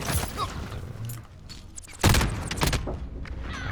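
Rifle gunfire in a video game, a loud burst of shots cutting in about halfway through amid busy game noise, with a few more impacts trailing after.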